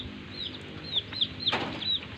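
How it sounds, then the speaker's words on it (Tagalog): Hens with their chicks in a backyard flock, soft clucks under a run of high, thin peeping from the chicks, fairly close, with no one talking. "May mga sisiw pa sila, oh."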